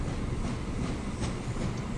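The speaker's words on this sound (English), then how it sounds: "The grain train is in full flight." Freight grain train running in the Transport Fever 2 video game, a steady, dense rolling rumble with faint rhythmic clacking, loud and continuous with no talk.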